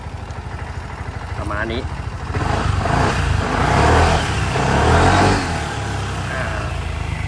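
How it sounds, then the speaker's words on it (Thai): A BMW C400GT motor scooter engine with its stock exhaust starts and revs up and down, running steadily at close range while someone talks over it. "เดี๋ยวสตาร์ทให้ฟังเสียงเครื่องยนต์กันดีกว่า"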